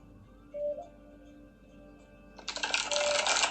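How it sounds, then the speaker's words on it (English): A deck of cards being shuffled during a card reading, a dense burst of riffling flicks in the last second, close and fairly loud, after a quiet stretch with faint background noise. "I'm shuffling your cards"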